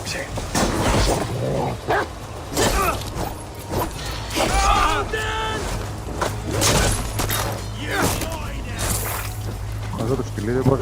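A dog barks in a combat scene in Assassin's Creed Valhalla, with repeated barks and yips mixed into dense game sound effects and voices.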